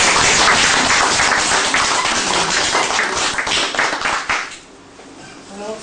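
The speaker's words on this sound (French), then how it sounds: "Acclamation." Applause from the crowd at a pharmacists' founding general assembly, dense clapping that fills the first four seconds and then thins out to scattered claps.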